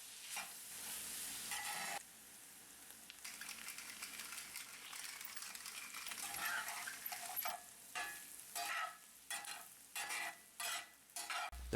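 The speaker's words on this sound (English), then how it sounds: "we add the onions and stir it all together for several minutes, adding some salt and pepper for seasoning" Ground beef and onions frying in a pan with salt and pepper, a steady sizzle broken by repeated scraping stirs that grow choppier and more rhythmic toward the end, close and without talk.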